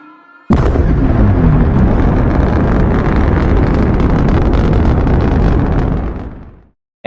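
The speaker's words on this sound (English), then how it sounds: "The engine is starting up." A rocket engine starting up for liftoff, a sudden loud roaring blast that holds as a dense, rumbling wall of noise for several seconds before fading out.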